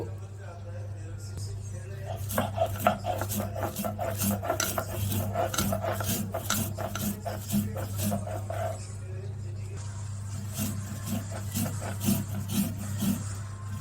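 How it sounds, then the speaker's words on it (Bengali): Black cumin seeds are ground on a Bengali sil-pata grinding stone, a dense run of rhythmic rasping back-and-forth strokes over a steady low hum, with a few quieter scrapes toward the end. "ভর্তাটা বানানোর জন্য এখানে আমি শিলপাটা নিয়েছি। প্রথমে আমি কালো জিরাগুলো বেটে নেব।"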